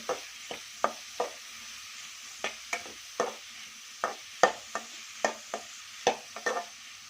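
Onions sizzle in oil in a pan for egg rice while a spoon stirs them, giving a steady soft hiss broken by regular sharp taps and scrapes of the spoon against the pan. It is close and there is no talking.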